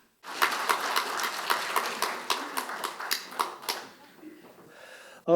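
Applause from a ceremony audience welcoming a speaker at a Buddhist spring dharma service held at the National Assembly; steady clapping for about four seconds, then fading away.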